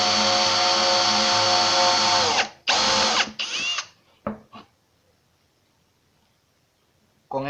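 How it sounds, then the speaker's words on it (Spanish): A power drill pre-drills a hole through wood with a loud, steady whine, then cuts out, revs in a few short bursts and falls quiet. "En la primera simplemente preperforaré para que puedas ver si es necesario o no avellanar."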